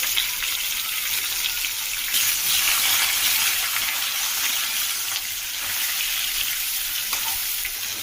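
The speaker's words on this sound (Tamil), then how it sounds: "தாளித்த கடாயிலேயே வாழைக்காவை பொரிச்சிடலாம்" Raw plantain frying in oil in a kadai used for tempering, a steady, bright sizzle and crackle that runs unbroken throughout, fairly loud and close with no talking.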